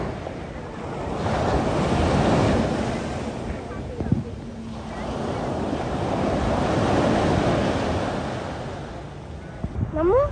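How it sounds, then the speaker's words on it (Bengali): Ocean waves washing ashore at high tide on Batu Ferringhi beach, a steady loud roar of surf swelling and easing, heavy wind buffeting the microphone, and a brief knock near the middle. "জোয়ার চলতেছে"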